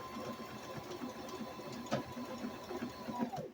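A sewing machine stitching hemp cloth for a fitted cloth diaper runs steadily with a soft, continuous whir and faint mechanical ticking, fairly quiet, then winds down and stops at the end.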